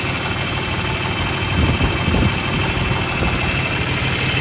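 A John Deere 2155 tractor runs with a mower attached, its engine giving a steady, loud drone with a slight swell midway, heard close up and alone.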